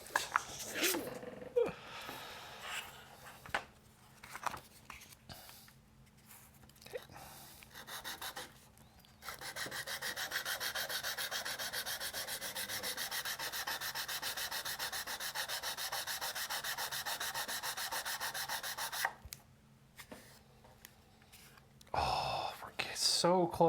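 Hand sanding of a plastic model kit part, a long steady rasping scrub that runs for about ten seconds, preceded by shorter scrapes and fainter passes, with some quiet speech around it.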